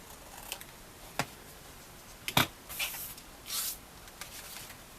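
Paper being trimmed for a Santa-themed folio craft project, with a few sharp, scattered snips and rustles separated by quiet pauses, close up and with no talking.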